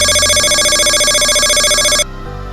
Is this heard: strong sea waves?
no